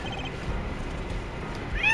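A short cat meow from the Apollo Justice: Ace Attorney video game pops up near the end, bright and close, over a steady low background hum.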